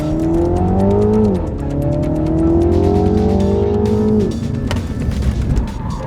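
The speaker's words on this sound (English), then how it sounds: "We get to drift Mini Coopers, guys." Mini Cooper cars drifting on a driving-school track, their engines loud and close with rising and falling revs and tire squeal under the engine roar.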